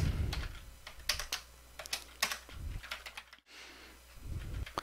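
Fingers type steadily on a computer keyboard while entering numbered list text in a document, a close, soft clatter of individual keystrokes with a brief pause near the middle.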